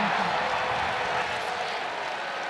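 Cheering and roaring from a stadium crowd of Clemson fans at a college football game against Wake Forest, a broad sustained wash of noise heard from a distance that fades slightly toward the end.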